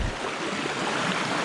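River water rushes and splashes around someone wading knee-deep near the Sungai Pandan waterfall, a dense, continuous broadband wash that is close and loud, with no voices.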